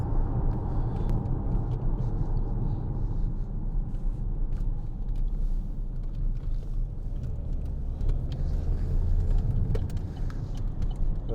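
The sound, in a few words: Vauxhall Insignia 2.0 CDTi car accelerating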